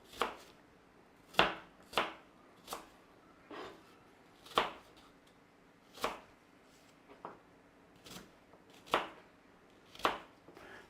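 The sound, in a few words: knife cubing apples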